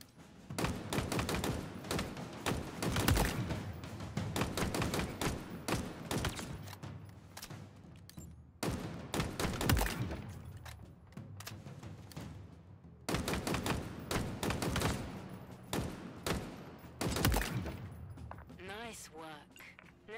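Rapid bursts of gunfire while shooting targets in Halo Infinite, dense volleys of loud shots with short gaps between them, continuing throughout.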